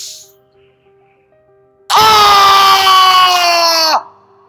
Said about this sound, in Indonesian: Kita lakukan berteriak.